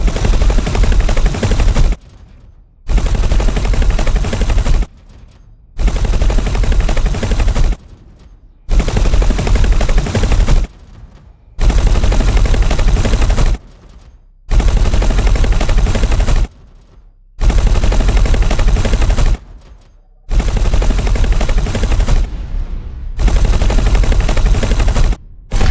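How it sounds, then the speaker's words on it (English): Bolt repeater weapons on a heavy fighter in the space game X4: Foundations fire in loud sustained bursts of rapid shots, each burst about two seconds long and separated by short silent pauses, repeating nine times. "this ship is designed to kill medium ships, and as such, it's using bolt repeaters because they just do that little bit more damage"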